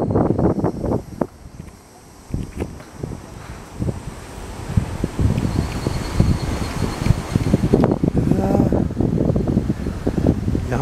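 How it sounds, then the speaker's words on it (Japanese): Strong gusting wind at a seaside lookout park in Iwaki, Fukushima, buffeting the microphone with loud irregular rumbling thumps and a rushing hiss throughout, no clear speech. "うわ、涼しい、すごい風だ、"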